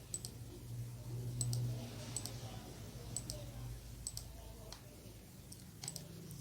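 Sharp mouse clicks on a computer, made while toggling inputs and the clock in a flip-flop circuit simulator, come in small clusters and single taps over a faint low hum.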